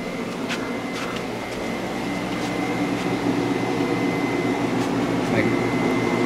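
A window air conditioner, set up as a portable unit with two hoses during a heat wave, runs with a loud, steady broadband whoosh and hum that builds slightly and continues without a break.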